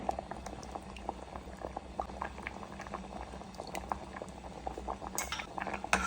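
Batate humman, a GSB-style potato curry, bubbling in a pot with a steady dense gurgle and scattered small pops, plus faint clinks of a spoon against metal near the end, close and without talk.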